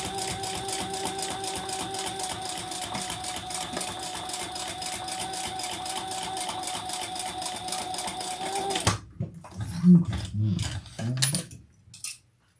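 A sewing machine top stitching at a long stitch length, running in a steady, continuous mechanical whir for several seconds before stopping abruptly, followed by a few small clinks and handling knocks.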